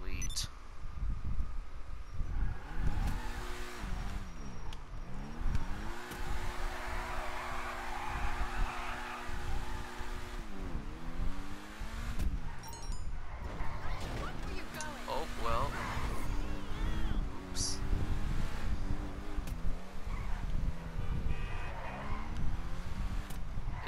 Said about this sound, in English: It's a fast car.